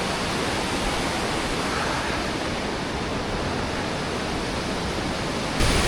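Water pours over the spillway of Kharkhari Lake in a dense, steady rushing roar, close and loud, with no voices over it.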